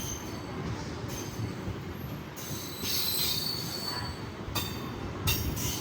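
The Narasapuram–Charlapalli train rolls past near a coach maintenance area, a loud continuous rumble of wheels on rails topped by repeated high, bright squeals that come and go in several bursts.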